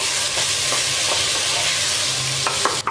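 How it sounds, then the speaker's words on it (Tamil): Basmati rice and green peas stirred and fried in hot oil, a constant close sizzle with regular scraping stirs, ending in a couple of sharper clatters against the pan. "அரிசி போட்டதுக்கப்புறமா ஒரு ரெண்டு நிமிஷம் நல்லா எண்ணெயிலே நல்லா ஃப்ரை பண்ணிக்கலாம்"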